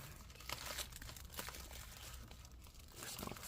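Plastic film is torn and crinkled from inside a 16-inch MacBook Pro A2141 during disassembly, giving faint, continuous crackling and ripping close by, with no speech.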